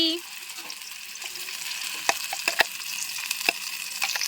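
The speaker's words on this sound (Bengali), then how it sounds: "তো আমাদের তেল গরম হয়ে গেছে, কড়াই চলে যাচ্ছে আমাদের মটরশুঁটি" Green peas dropped into hot oil in a wok sizzle softly, with sharp clicks and taps of a utensil stirring them at irregular moments, close and moderately quiet.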